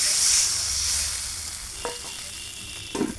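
Water poured into a hot cooking pan in a village home kitchen hisses into a loud, steady sizzle that slowly fades, with a couple of brief utensil clinks near the end.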